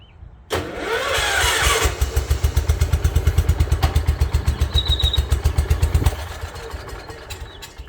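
A cold lawn tractor engine catches and runs with a loud, close, throbbing putter for several seconds, then cuts off when the throttle is released, leaving quiet.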